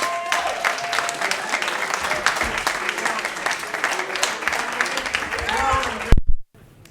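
A crowd applauds loudly and steadily, with cheers and whoops mixed in, before the clapping cuts off abruptly.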